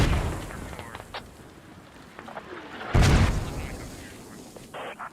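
A mortar round fired in the military video game Squad, one heavy boom midway through a quiet stretch of faint battlefield noise and scattered distant shots.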